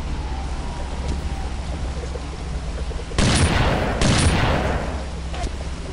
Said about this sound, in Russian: кто там по нам стреляет?